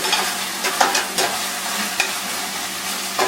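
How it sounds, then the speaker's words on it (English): Ginger and garlic sauté in a hot pan for an Indian-style green mushroom gravy, giving a steady close sizzle broken by a few sharp scrapes and stirs of a utensil. "we need to give it some time to saute, because the rawness of the garlic and ginger must subside"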